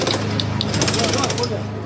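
Drills and hammers work through collapsed buildings in a search for earthquake survivors in Myanmar, a dense, rapid mechanical rattle with several sharper knocks, close and continuous.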